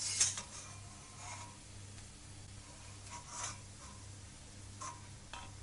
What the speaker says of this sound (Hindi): वेजिटेबल निकाल रहे हैं फ्राई करके।